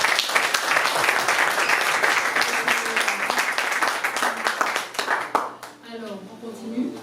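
A church congregation at a youth convention breaks into sustained applause and cheering, dense steady clapping that fades after about five seconds as a voice begins speaking.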